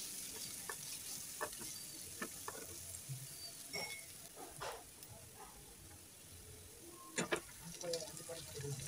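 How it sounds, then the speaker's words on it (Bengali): Chopped onions frying in oil in a pan while being stirred, a steady close sizzle with occasional scraping clicks of a spoon against the pan. "তো পেঁয়াজটাকে নেড়ে চেড়ে ব্রাউন কালার করে ভেজে নেব।"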